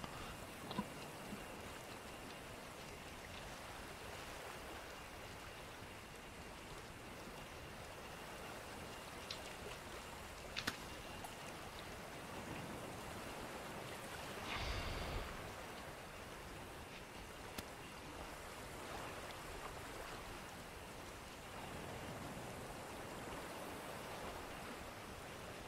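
Rain falling in the survival video game The Forest, a steady, very quiet hiss of drops with a brief louder patter midway and no talking.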